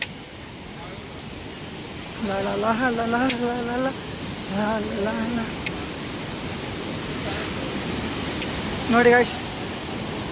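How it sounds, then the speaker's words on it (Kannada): Broad, steady rushing of a fast river on the Kedarnath trek, flowing under heavy pressure, fills the whole scene as a constant roar while someone talks over it in short bursts. "ತುಂಬ ಜೋರಾಗಿ ನೀರು ಹರಿತಿದೆ."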